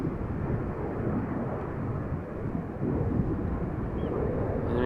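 An airplane passes over the A4 highway near the platform area at Amsterdam Schiphol Airport, its deep broad engine roar steady and fairly loud throughout, with some wind buffeting the microphone.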